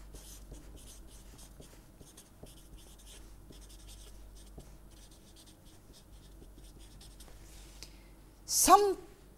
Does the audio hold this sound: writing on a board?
yes